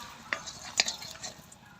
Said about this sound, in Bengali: বড়ি খুব তাড়াতাড়ি ভাজা হয়ে যায়।